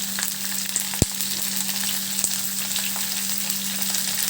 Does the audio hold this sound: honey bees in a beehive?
no